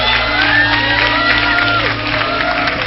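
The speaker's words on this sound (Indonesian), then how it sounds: "Mau tepuk tangan buat Devi" A television late-night show studio audience applauding and cheering, with whoops and shouts over steady clapping, loud and continuous, with a tonal music bed running underneath.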